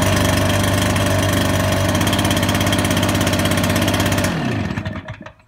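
A Stihl BR 450C-EF backpack blower with electric start runs its engine at a loud, steady, throbbing idle close by, then shuts off at about four seconds and rattles down into quiet.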